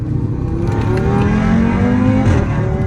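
Audi RS3 8V with its quattro drive pulls hard in second gear, a loud, steady engine roar with rising harmonic whine building throughout, heard from inside the car with no talking.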